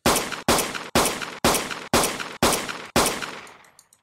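Weapon fire in a Unity first-person shooter game, seven evenly spaced sharp shots about half a second apart, the last one ringing out with a short tail and a few faint clicks.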